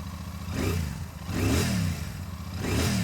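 A 2024 Royal Enfield Shotgun 650 twin-cylinder motorcycle starts and revs up in heavy rain, with three rising throttle blips over a steady close idle and no talk.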